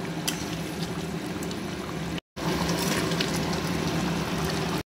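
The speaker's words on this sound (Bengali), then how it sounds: "তোমরা দেখতে পাচ্ছ কি সুন্দরভাবে বলক উঠে গেছে" Water at a rolling boil in a cooking pot before fish is added, a steady bubbling hiss that stays loud and constant, briefly cut off by a short gap, with no voices.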